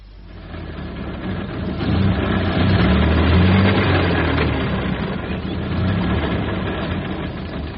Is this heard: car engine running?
yes